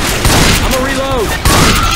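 Rapid gunfire bursts out in Left 4 Dead 2, loud and close, with repeated shots over a raised, shouting voice.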